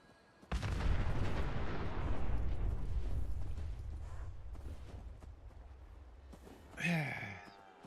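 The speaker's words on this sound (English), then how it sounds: "And that's what come next. An explosion." A big explosion in the video game Fallout 4 booms out suddenly and loudly, then rolls into a long, slowly fading rumble of debris, with a brief sharp burst near the end.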